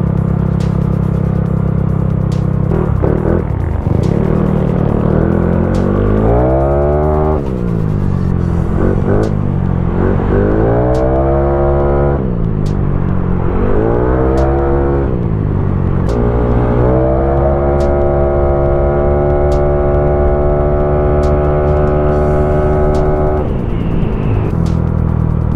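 A Yamaha Mio 160cc motorcycle fitted with a big valve head touring set revs repeatedly, rising and falling in loud, close sweeps before holding at a steady high pitch, with no talking.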